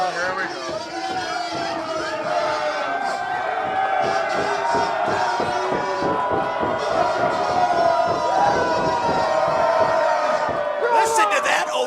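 Loud wrestling crowd at a Chicagoland Championship Wrestling show in Cook County, Illinois, roaring, cheering and shouting steadily throughout as a tag team enters, with shouts and whoops rising near the end and voices mixed into the din.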